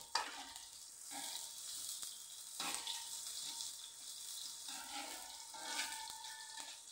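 A shallot frying in oil, giving a steady soft sizzle that runs throughout with occasional stirring scrapes, quiet and close with no voices.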